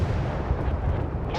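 Warship guns fire in the naval combat game Force of Warships, a heavy, rumbling artillery boom that fills a brief moment with a dense low roar.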